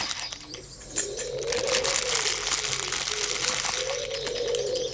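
Pigeons or doves coo repeatedly near a garden feeding station, soft rounded calls recurring over a quiet outdoor background with a few faint chirps.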